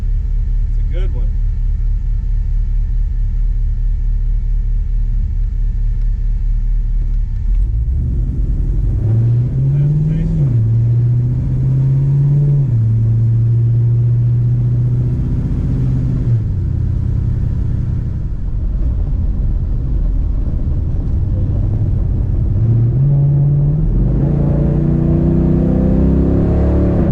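A 1954 Chevy Bel-Air with an LS swap engine driving, a steady low engine rumble throughout with gear shifts and revs rising and falling, loud and close, and a voice talking over it.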